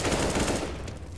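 Automatic gunfire in a competitive Counter-Strike: Global Offensive match as players try wall-bang shots through a window, a loud rapid burst of shots that tapers off, with no talk.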